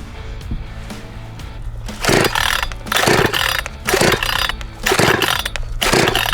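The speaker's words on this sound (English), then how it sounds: "The Pinkway chainsaw." A Pinkway chainsaw, not yet warmed up, runs in a steady idle with repeated loud revving bursts, its engine note rising and falling in close, uneven pulses.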